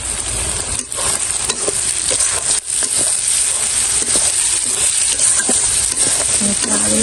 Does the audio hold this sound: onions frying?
yes